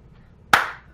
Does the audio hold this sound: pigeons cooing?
no